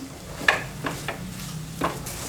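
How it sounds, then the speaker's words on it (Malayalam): Spice powder for Kerala-style chickpea curry is stirred in a pan over a low flame: a few scraping strokes of a spoon, including a sharper scrape early on, over a quiet, steady sizzle. "നന്നായിട്ട് ഇളക്കി കൊടുത്താൽ പൊടിയുടെ പച്ച മണമൊക്കെ ഒന്ന് മാറണേ, അതുവരെ ഇളക്കി കൊടുക്കണം."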